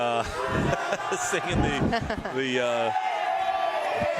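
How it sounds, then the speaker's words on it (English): Crowd of Bartow high school students singing in the stands at the end of a basketball game at Winter Haven, a loud massed chant of voices close under an announcer talking over it. "The crowd singing the"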